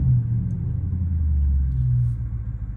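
A Dodge Charger Scat Pack's engine rumbles low and steady during a street drive, a deep continuous drone with slight swells in loudness and no talk over it.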